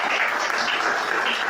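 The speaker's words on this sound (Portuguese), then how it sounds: "Pode aplaudir." A church congregation applauds after a sermon passage, a dense, continuous wash of many hands clapping at once, loud and close, with no talk over it.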